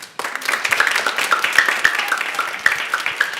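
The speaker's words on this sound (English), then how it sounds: "How about you give them a round of applause?" An audience at a 6th grade band pop concert bursts into clapping after a song, close individual claps standing out over a steady bed of applause from the room.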